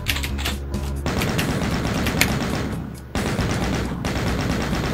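Rapid gunfire from the classic Doom game played in virtual reality, a dense clattering burst of shots that runs almost continuously, with a short break near the middle before the firing resumes loudly.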